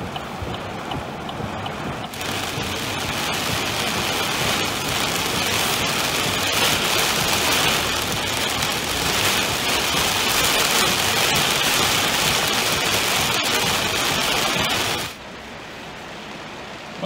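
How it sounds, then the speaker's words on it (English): Heavy rain in high winds pours down in a dense, loud roar that starts suddenly after two seconds and continues steadily before cutting back to a quieter background hiss near the end. "It's raining so hard you can barely even see in high winds."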